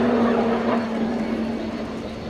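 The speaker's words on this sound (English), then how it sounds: "The Tucano you see flying in front of you today is the stepping stone for flying a military fast jet." An RAF Tucano T1 turboprop training aircraft flies past at an air display at Yeovilton, a steady droning engine hum with a sustained tonal whine, fairly loud and gradually fading slightly.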